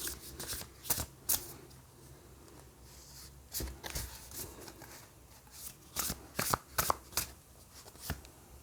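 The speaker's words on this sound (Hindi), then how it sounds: "तो चलिए मैं थोड़ी सी और कार्ड्स लेती हूँ।" Tarot cards are riffled and shuffled in short, crisp bursts, several quick flutters spaced a second or two apart against a quiet room, close to the listener and with no speech.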